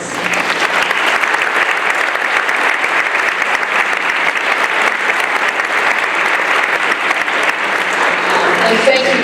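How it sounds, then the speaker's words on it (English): An audience claps for parents at a school honor choir and band concert, a loud, sustained round of applause from a full crowd that holds steady from start to finish. "So how about a round of applause for our parents?"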